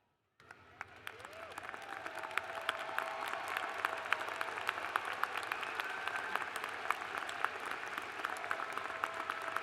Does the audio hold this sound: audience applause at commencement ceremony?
yes